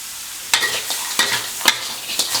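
Flower crab stir-fries with curry powder in a pan over high heat: a continuous sizzle broken by about five sharp, rhythmic scrapes of the spatula, close and loud.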